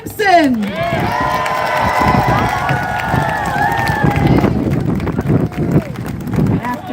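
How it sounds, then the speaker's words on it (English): Outdoor rally crowd cheering and clapping for a speaker, a swelling wash of shouts and whoops with wind buffeting the mic, settling into scattered applause and chatter. "everyone, a huge round of applause for Lois Simpson"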